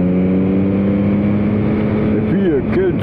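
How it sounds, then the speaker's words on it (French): A 2021 Yamaha MT-09 motorcycle engine holds a loud, steady droning tone that swoops up and down in pitch near the end as the rider accelerates. "Quelle tenue de route et accélération avec ce moteur"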